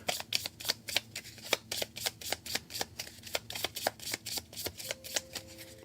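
Cards for the Alien: Fate of the Nostromo board game being shuffled, a steady run of crisp riffling bursts close by, with a faint tone near the end.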